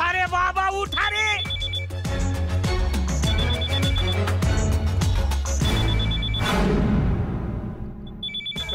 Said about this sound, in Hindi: राजू प्लीज फोन उठा।